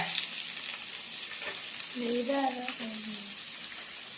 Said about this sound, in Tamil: கையோடையே நம்ம வந்து இதை போட்டுக்கலாம் ஃப்ரெண்ட்ஸ், வெங்காயத்தை.